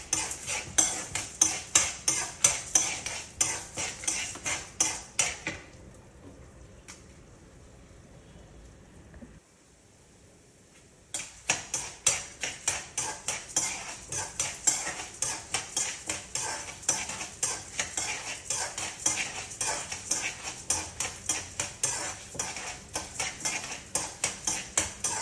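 Chana dal and dried red chillies frying in a pan, stirred with a rapid, rhythmic scraping of a utensil over a continuous sizzle, pausing briefly midway before the brisk stirring resumes.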